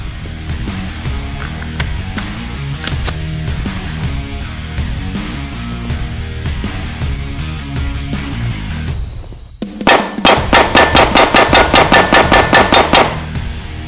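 A Beretta APX Centurion pistol fires a rapid, evenly spaced string of loud, sharp shots after a draw from the holster. The shots are close, and steady background sound plays before them.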